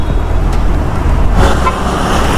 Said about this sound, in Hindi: आई रोडे प्रचुर गाड़ी चले।